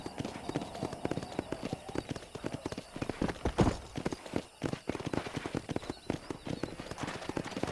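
Horse hooves clip-clop in a steady riding rhythm in the Red Dead Redemption video game, close and clear, with a brief louder bump partway through and no speech over it.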